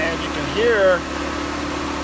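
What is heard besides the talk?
RV furnace blower running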